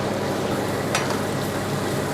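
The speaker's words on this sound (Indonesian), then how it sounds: "mari kita goreng cabai merah besarnya ya" Large red chilies fry in oil left over from cooking for a Sundanese nasi liwet, giving a steady broadband sizzle throughout with one brief sharper crackle, and no talking.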